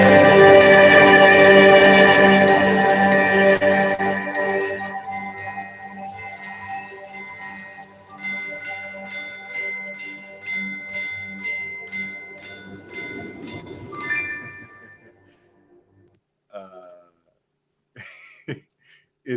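A Breguet Marine 5517 white gold watch on a rubber strap chimes in a series of ringing, bell-like tones that sound strong at first, pulse on for several seconds, then fade away to near silence.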